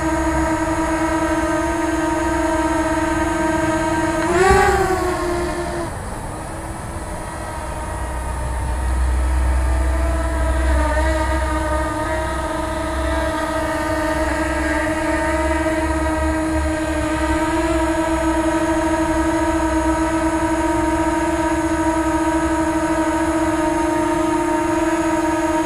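A DJI Spark drone fitted with low-noise propellers lifts off, its steady tonal motor whine rising briefly in pitch and then holding close and constant over a low background rumble.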